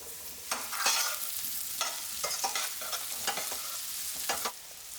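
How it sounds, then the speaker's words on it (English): Red onion, carrots and sprouts frying in a pan, a moderate sizzle broken by repeated scraping stirs of a utensil, with no one talking. "I'm going to fry a little bit of red onion again from the sprouts."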